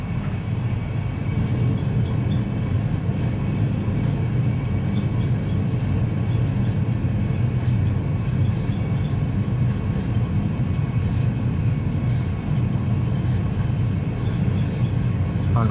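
Airbus A320 jet engines spooling up to takeoff thrust on the runway, a steady loud broadband roar that holds evenly throughout with no talk.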